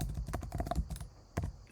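Close, clicky computer keyboard typing, a quick burst of several keystrokes followed after a short pause by a single firmer key press.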